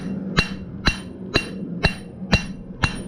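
Six evenly spaced ringing hammer blows strike tapered tongs on an anvil, half on and half off the face, each a sharp metallic clang with a short decay, close and loud.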